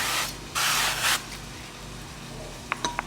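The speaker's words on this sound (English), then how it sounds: "I'm going to spray my baking dish" Two short hissing bursts of olive oil cooking spray from an aerosol can onto a baking dish, close by, followed by a few faint clicks.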